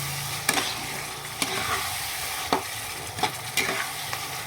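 Soy sauce, chili sauce and tomato ketchup are stirred together in a bowl, a spoon scraping continuously with sharp clinks against the bowl every second or so, close and fairly loud.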